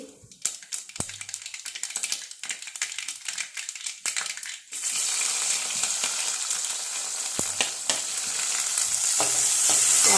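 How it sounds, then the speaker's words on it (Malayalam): Mustard seeds splutter in hot oil in a home kitchen, starting with a few scattered pops and stirring, then breaking into a loud, continuous crackling sizzle close to the pan. "കടുക് പൊട്ടി"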